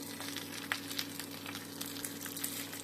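Cauliflower paturi parcels frying on a hot pan produce a continuous, close sizzle with faint crackles and a low steady hum underneath, no talking.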